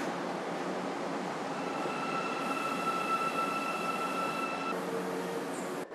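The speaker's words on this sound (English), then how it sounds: "7 up-to-date electric trains operate on the line" Electric subway train on the Almaty metro running through a tunnel, a steady loud rumble with sustained motor whine tones rising over it, continuous for several seconds before easing slightly at the end.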